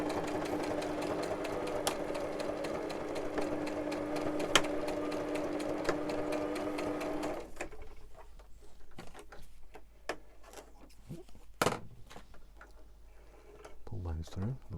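A sewing machine stitches a fabric pocket with an embossed window, a close, steady mechanical whir for about seven seconds, then stopping and giving way to scattered clicks and handling noises.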